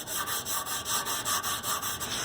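Rapid rhythmic rasping strokes of a green abrasive pad scrubbing back and forth on the paint of a classic Vespa, close and steady, about five strokes per second.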